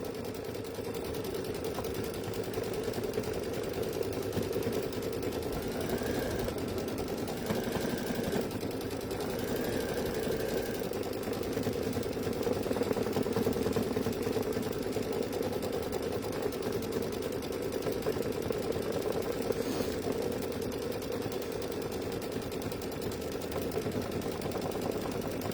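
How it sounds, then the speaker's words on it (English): A sewing machine runs steadily, stitching a placement line for a gable in white thread on a bench pillow project, its even mechanical hum going on without a break and without talk. "then we are going to stitch the placement line"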